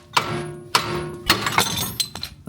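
A hammer strikes a ball joint separator on the lower control arm of a BMW E46. The sharp metallic blows come close and loud: two spaced hits, then a cluster of quicker clanks and rattles.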